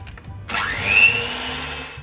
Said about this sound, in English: Get your mixer. Give it a good whiz up.